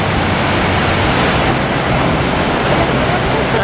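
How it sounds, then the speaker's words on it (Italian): Ocean waves surge beneath a natural rock arch at Punakaiki Pancake Rocks, New Zealand, producing a loud, steady, close roar of churning water with a faint hint of wind on the microphone. "Eccola che arriva l'ondazza."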